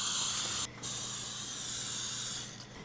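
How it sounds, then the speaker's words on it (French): Cooking spray hissing onto bread loaf pans in a kitchen: two close, steady sprays, a long one broken by a short pause, then a brief sputter as it stops, with no talking. "On va huiler nos moules à pain, soit avec du beurre, soit avec du spray à cuisson."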